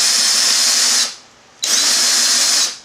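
A power drill bores through a homemade overlay for a modded arcade control panel, held over cardboard. Two loud, steady high-pitched bursts of whirring are split by a short pause, with no voices.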